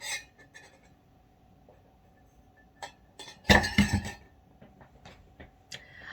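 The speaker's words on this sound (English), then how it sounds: "I'm going to take another sip of water." A drinking glass clinks and knocks close by as someone takes a sip of water at a table, a few sharp taps and a louder cluster of clatter midway, with no talking.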